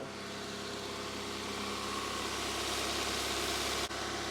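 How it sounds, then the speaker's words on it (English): Honda Civic EP3 engine with a junk aftermarket throttle position sensor running at a high idle, a steady loud droning hum that holds even and close, with a brief dip near the end. "That is a high idle."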